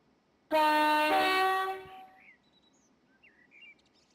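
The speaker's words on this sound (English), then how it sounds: "It is a very quiet train, this one. It runs on air." A long, loud chord-like horn blast sounds from an air-powered M7 train in Train Simulator Classic, fading out after about a second and a half, followed by scattered faint bird chirps over a quiet background.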